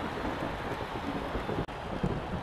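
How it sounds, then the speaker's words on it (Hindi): Heavy rain pours steadily on an IPL cricket ground, a dense, constant hiss and patter with no voices, broken by one sharp momentary dropout. "जोर से आई है बारिश"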